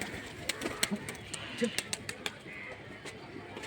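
Pigeons kept at a home loft give soft, faint coos at a distance among scattered small clicks and rustles, with a low background hum.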